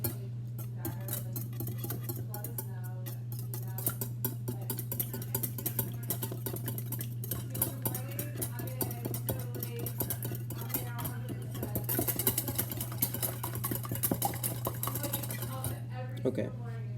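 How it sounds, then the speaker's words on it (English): Eggs whisked with salt in a bowl, a fast continuous rattle of utensil against the bowl sides, close and fairly quiet over a steady low electrical hum. "Whisking the eggs with salt and letting them break down"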